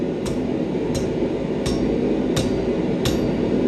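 Hammer striking hot steel on the edge of an anvil while forging an S hook, five sharp ringing blows at a steady rhythm about 0.7 seconds apart, close and clear.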